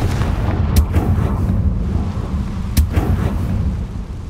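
Spell explosion from the fire-blast Confringo in Hogwarts Legacy, heard as a heavy, rumbling boom with two sharp cracking bursts over a dense low roar.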